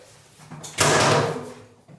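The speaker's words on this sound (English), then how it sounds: "Okay, that door opens good." A door in an off-grid house being built in the woods swings open with a soft creak and a brief whooshing scrape, close by and alone, fading out within about a second.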